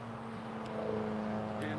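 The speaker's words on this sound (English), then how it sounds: "I apologize for the volume of the traffic noise" Road traffic rumbles steadily along a busy street during an outdoor 5K walk-run, a continuous moderate drone with passing vehicles swelling faintly.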